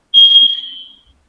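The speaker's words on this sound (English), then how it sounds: "Somebody set off a smoke alarm," A smoke alarm gives one loud, piercing high beep, lasting about a second and fading toward the end, heard alone with no talking over it.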